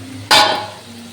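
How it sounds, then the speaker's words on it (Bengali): A metal spoon strikes a pan once, ringing briefly and fading, while chhana (cottage cheese) is stirred with spices for chhanar kalia. A faint background hum sits underneath. "মশলার সঙ্গে সুন্দর করে আমি ছানাটা নেড়ে নিলাম"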